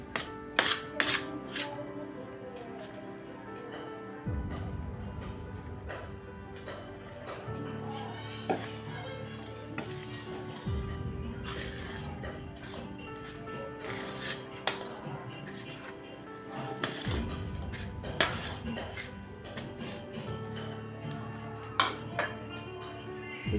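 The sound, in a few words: mixing wheat flour into a pumpkin mixture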